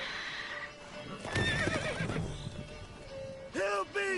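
A horse whinnies in The Witcher 3, with a sharp, loud neigh in the middle and a second shorter whinny near the end, backed by faint hoof clip-clops and game ambience.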